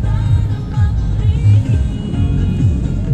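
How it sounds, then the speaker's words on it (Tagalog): Heavy street traffic near a market. Car and vehicle engines rumble low and close in a continuous, fairly loud drone, with small swells as vehicles creep and rev. "Sobrang traffic."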